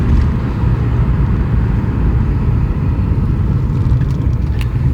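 Wrecked BMW car driving on a road, heard from inside as a steady, loud low engine and road rumble throughout with no talk.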